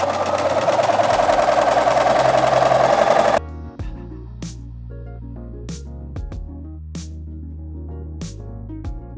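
A sewing machine running long gathering stitches through skirt fabric, a steady loud whirring burst for about three seconds that then stops, followed by quieter handling clicks and taps.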